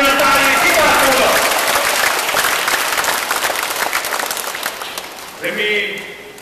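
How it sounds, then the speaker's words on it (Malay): A rally crowd for the Barisan Nasional party claps loudly and densely, and the applause slowly fades as a voice rises over it near the end. "Kita berikan tepukan gemuruh sekali lagi kepada mereka yang baru"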